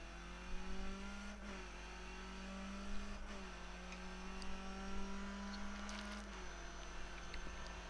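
A Skip Barber race car revs hard around Suzuka in iRacing, its engine note climbing in steady pitch sweeps, broken by gear shifts including one missed shift, at a low level with no talk.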